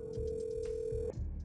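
A telephone call to emergency services, with a steady ringing tone and short electronic pulses repeating over a low background hum, loud and close.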